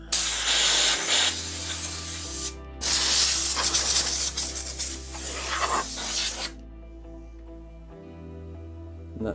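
Compressed air blowing out freshly drilled, countersunk M8 bolt holes on a Yamaha XV750 mudguard in a shed, a loud rushing hiss in several bursts with short pauses between them, over a low steady hum.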